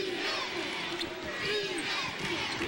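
Alabama fans roar and shout together in a packed basketball arena during a comeback against Tennessee, a sustained dense crowd cheer with whoops rising and falling throughout.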